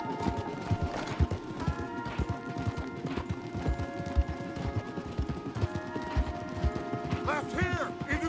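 Rapid, rhythmic hoofbeats of several horses galloping in Red Dead Redemption 2, with a steady backing tone and a brief horse whinny near the end.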